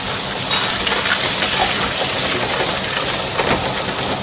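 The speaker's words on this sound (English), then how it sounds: "And then we're going to drop in some butter." Butter dropped into a hot pan with frying seabass fillets, giving a loud, steady wash of sizzling and spitting fat that fills the whole stretch without pause.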